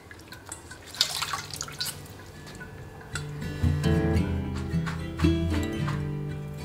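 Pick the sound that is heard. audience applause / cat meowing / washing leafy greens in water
washing leafy greens in water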